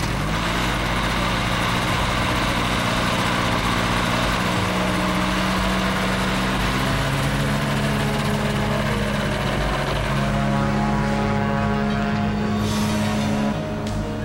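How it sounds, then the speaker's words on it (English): A heavily loaded flying inflatable boat's propeller engine drones steadily and loudly at high power during a takeoff attempt, a constant buzzing roar with no break. "The FIB usually takes off within seconds, but with all the extra weight, getting airborne is looking questionable"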